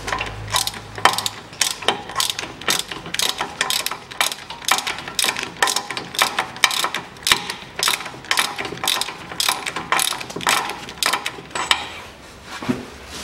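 Ratchet wrench loosening the front brake caliper bolts on a Land Rover Discovery 3, a loud, steady series of sharp metallic clicks in quick bursts, close up, with no talking.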